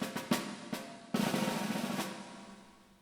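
Snare drum drenched in a long concert hall reverb of about 2.5 seconds, played alone: a few hits and a roll blur into a washy, lingering tail that slowly decays after the last stroke.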